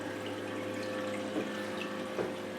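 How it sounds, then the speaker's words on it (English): A steady low hum of a newly installed small aquarium water pump runs with faint bubbling water, constant and close, with two soft gurgles. "Okay, so the new water pump is in."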